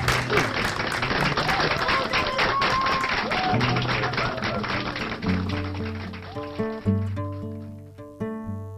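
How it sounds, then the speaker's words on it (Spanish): Audience applause welcoming a performer onto the stage of a café cultural show, a dense steady patter that fades out as guitar-like notes take over in the final seconds. "Quiero pedirles un fuerte aplauso"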